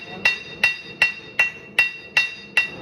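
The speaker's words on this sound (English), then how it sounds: "Now I'm gonna use my cross peen." Seven sharp, ringing blows of a cross peen hammer forging steel for a Damascus hunting knife, evenly spaced about a beat apart, each with a bright metallic ping, close and loud with no talking.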